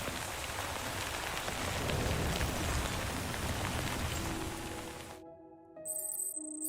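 Steady, dense rainfall pours in the video game Death Stranding, then cuts out near the end, giving way to a few clear electronic tones.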